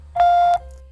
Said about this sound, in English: When paged, you'd receive a beep or vibration